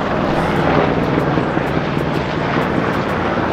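A helicopter flies overhead near a saltwater shore, its engine and rotor making a loud, steady broadband roar with faint rhythmic chopping, heard alone without talk.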